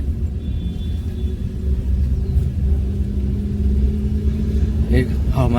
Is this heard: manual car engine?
yes